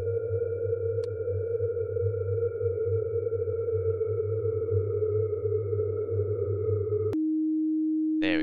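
A hallway distortion anomaly in I'm on Observation Duty 4 gives off a steady, loud droning electronic hum with sonar-like tones, then cuts abruptly to a flat pure tone and a rising sweep.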